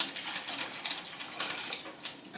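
Tap water runs steadily into a kitchen sink during cooking, a continuous bright hissing splash close by with slight surges, no talk over it.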